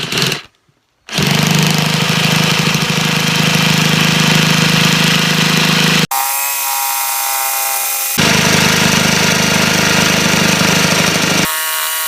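A jigsaw cuts through a thick rubber horse stall mat, giving a loud, continuous buzzing rasp with a short pause near the start and a change in pitch partway through as the cut continues.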